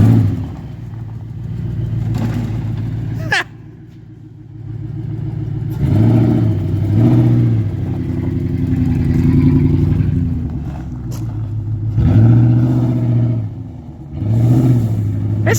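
A straight-piped V8 Toyota Sequoia exhaust barks through repeated revs, deep loud rumbling rising and falling in several blips with an idle between, close by.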